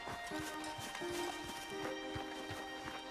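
Horses clip-clop in a video game, a steady run of hoof strikes at moderate distance beneath game music tones and ambient noise, with no talk over them.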